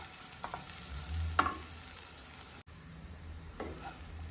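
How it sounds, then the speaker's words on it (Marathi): Leftover pav bread being stirred and sautéed in masala in a pan, with a soft steady sizzle and a few scraping stir strokes, quiet and close, no talking. "छान मसाले लागेल असं सगळीकडे पावाला आपण परतून घ्यायचं"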